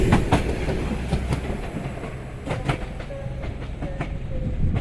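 A train pulls out of York station bound for Blackpool North, its wheels clattering rhythmically over rail joints amid a steady rumble, loud and close, with faint high tones over the steady rumble.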